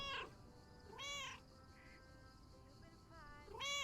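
A cat named Mortimer meows in the video game Lake, giving three clear, rising-and-falling meows spaced about a second apart over a faint background hum, close and distinct.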